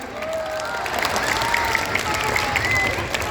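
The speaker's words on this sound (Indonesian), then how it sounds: "Sekali lagi tepuk tangan buat Pak Antonius" An audience at a school event in a mall in Bekasi claps steadily for a few seconds, moderately loud, with some voices and faint whistles or cheers mixed in.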